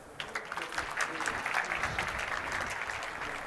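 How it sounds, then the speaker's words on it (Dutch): Warm applause from a conference audience welcoming a speaker on mobile strategy, a steady dense clatter of many hands that starts quickly and holds at an even level. "zou ik graag een hartelijk applaus voor jullie willen hebben"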